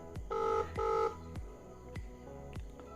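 A soft electronic incoming-call ringtone on an Aeofit Orion smartwatch plays a two-part beeping tone, then a series of faint regular clicks or ticks follows, quiet and close.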